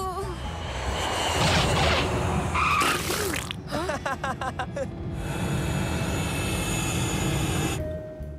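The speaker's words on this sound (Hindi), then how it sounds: "बहुत खूब लाजवाब लैंडिंग की आपने कैप्टन" A cartoon airplane touches down and skids along the runway in a long screeching, rumbling landing, with brief zipping effects in the middle and a voice speaking over part of it.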